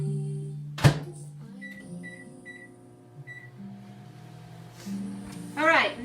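A microwave oven heating a cup of hot cocoa, its steady low hum running throughout with a few soft beeps, while a person talks over it now and then.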